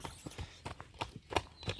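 A mare's hooves clip-clop in an uneven walking rhythm, fairly close and moderately loud, with a few sharper strikes toward the end.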